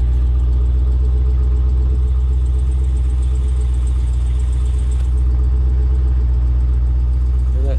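A car engine idles loudly and steadily, a low constant rumble with a faint, rapid ticking running through it.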